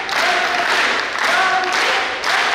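A group of yoga class participants clapping together in a steady rhythm, dense continuous applause-like patter that swells in repeated bursts, close and fairly loud.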